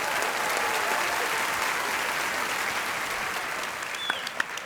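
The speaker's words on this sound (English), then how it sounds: "Can we get another round of applause for Michael Gudinski" A large crowd at the 2023 ARIA Awards applauds for Michael Gudinski, a dense, sustained wash of clapping that fades slightly toward the end, with a few louder individual claps.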